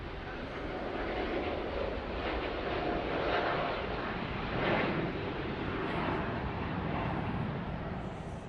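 A jet airliner takes off from runway 34 right at Sydney Airport, its engines a steady, loud, broadband roar that holds throughout without any voices.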